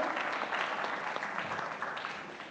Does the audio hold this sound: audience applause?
yes